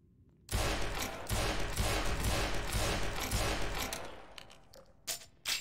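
Bursts of rapid gunfire with bullets being shot, loud, dense and continuous for several seconds after a quiet start, then breaking into a few separate sharp shots near the end.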